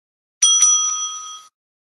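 A debate timekeeper strikes a bell once, giving a single bright ring that hangs for about a second before cutting off, loud and alone.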